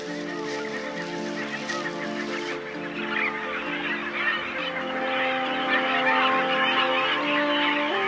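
Puffins call at a grassy nesting colony of burrows, a dense chorus of layered, droning honks and groans that swells steadily louder, near and continuous with no talk.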